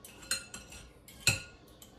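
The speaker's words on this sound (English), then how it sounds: "we got two forks here. And just break it up like tuna" Two forks flake apart cooked wild game fish on a plate, making a few light, close clinks and scrapes of metal tines, with one sharper tap near the end.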